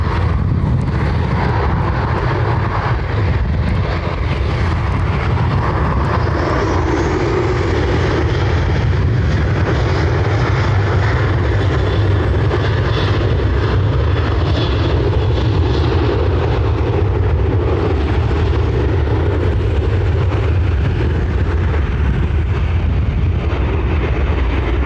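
Ryanair airliner taking off from Dublin Airport on a hot day, a loud, sustained broadband jet roar that holds steady throughout without talking.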